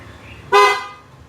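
A Mercedes-Benz aftermarket car alarm with passive keyless entry gives a single short, loud horn chirp as it auto-locks, a sharp clear toot standing out against quiet surroundings.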